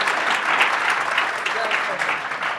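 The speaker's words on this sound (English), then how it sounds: "Let's give them a round of applause again" An audience applauds panelists at a leadership discussion, a continuous bright patter of many hands clapping through the whole short stretch, with no pause.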